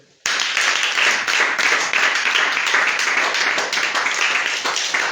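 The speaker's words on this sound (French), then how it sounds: "si tu es content, acclame le Seigneur" A church congregation at a revival worship service in Bouaflé bursts into sustained, loud applause. Many hands clap together in a dense, steady roar that continues throughout.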